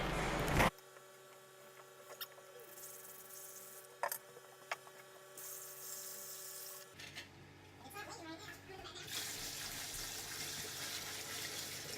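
Water runs steadily from a tap to fill a walk-in shower built with Wedi board for a flood test, a continuous gushing hiss under a faint mains hum, with brief knocks and a louder surge near the end.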